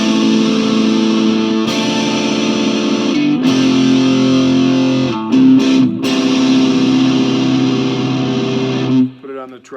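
Gibson Les Paul Classic electric guitar in the middle pickup position with tone knobs near 7, playing heavily distorted rock chords and riffs that ring loud and sustained, with brief pauses, until a cutoff near the end.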